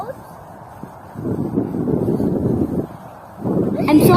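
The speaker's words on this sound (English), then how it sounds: "It's because it's very windy there at Brockholes." Wind buffets the microphone outdoors on a blustery nature walk at Brockholes, rumbling low in bursts that swell and drop, loud against faint background.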